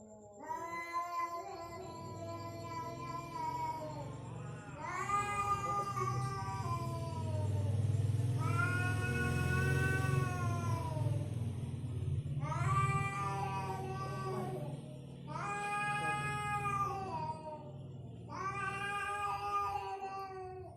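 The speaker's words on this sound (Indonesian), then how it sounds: "itu adalah suara kucing ya" Cat meowing in long, drawn-out, strongly voiced calls that sound uncannily like a human voice, several separate yowls in a row, close and loud with no talking.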